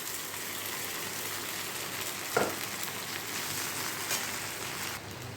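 Flattened rice (chira) is added to a frying pan and stirred, giving a steady, soft sizzling hiss with one brief scrape or clunk partway through.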